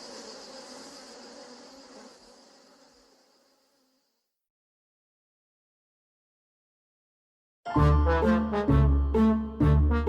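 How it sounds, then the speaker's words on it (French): Bees buzz in a steady drone that fades away into silence, followed later by a loud burst of unrelated music. "Cette ruche que vous voulez détruire est la société des abeilles."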